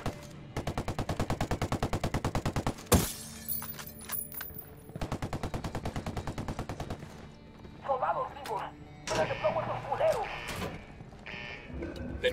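Rapid automatic gunfire bursts hammer out in Ghost Recon Wildlands, two long loud volleys separated by a sharp blast, followed by scattered clatter and shouting voices.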